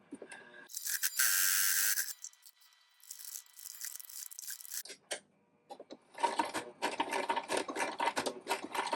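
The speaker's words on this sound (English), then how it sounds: "I'm doing the top stitching on the inside" A sewing machine top stitches a fabric wallet in several bursts, a loud, fast needle rattle starting and stopping with short pauses between runs, close and alone.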